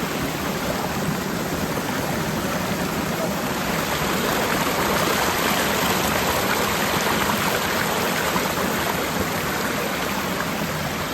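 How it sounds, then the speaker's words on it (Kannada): A flowing stream on a weekend outing near a hilltop trek, heard alone as a steady, loud, broadband rush of water that stays even throughout with no voices. "ನನ್ನ ಕಾಲೆಲ್ಲ ಈ ನೀರು ಸೌಂಡೇ ಕೇಳ್ತಾ ಇದ್ರೆ ಎಷ್ಟು ಚೆನ್ನಾಗಿರುತ್ತೆ ಅನಿಸುತ್ತೆ. ಏನು ಶಬ್ದ ಇಲ್ಲ, ಬರೀ ನೀರು."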